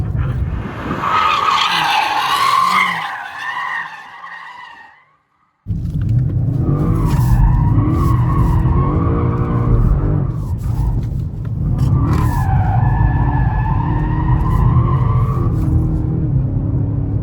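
A BMW M5 G90 drifts sideways with sustained, loud tire squeal over a roaring engine, cutting out briefly before resuming for a long continuous slide.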